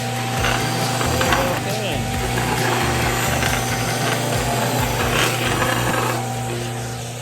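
A stationary sander grinds against wood with a steady motor drone, the abrasive rasp rising and falling as the piece is moved.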